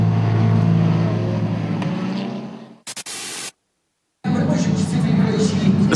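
GT race cars roar around the Brno circuit at the ESET Cup 2023, a loud, sustained engine wash that fades and breaks off into a short static burst and silence before the roar returns.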